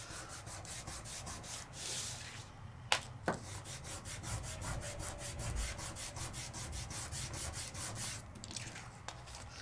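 Microfine glitter is burnished by hand onto a stencilled card: a steady, soft rubbing scrape close up, with a couple of sharp taps near the start and no talking.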